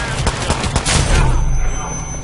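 Gunfire in the video game Hitman Absolution, a quick loud string of shots over roughly the first second, then a sustained noisy rumble of game sound.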